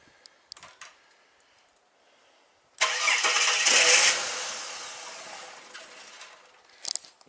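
A Ford BA Falcon, just after a fuel filter change, cranks and fires up, then runs in a loud, rough burst for a few seconds before fading off. A few small clicks come before and after.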